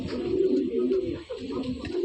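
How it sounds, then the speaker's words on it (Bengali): An adult Allahabadi Kaldum pigeon with white eyes and clipped wings, kept in a giribaz loft, gives soft, low, continuous cooing close by for a couple of seconds. "এলাহাবাদি দাদা পায়রা দেখালো কালদমা পায়রা"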